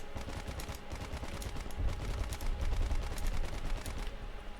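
Helicopter-mounted guns fire a steady rapid stream of shots in the combat game War Thunder, dense rattling bursts with a low rumble beneath, moderately loud and continuous with no talk.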